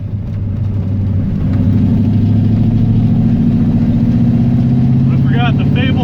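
A V8 car running a lawn mower carburetor drives on the road with a steady, loud, low engine rumble that builds and holds, close to the cabin, with a voice briefly over it near the end.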